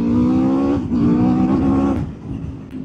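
Aprilia RSV4 1100 Factory superbike engine revving while riding on the road, a loud, close, high-pitched howl that rises, briefly dips, climbs again, then drops away as the throttle closes.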